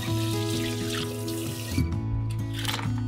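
Cold tap water running over freshly boiled okra in a kitchen sink, a steady close splashing flow with shifting pitch as the stream hits the vegetables and container.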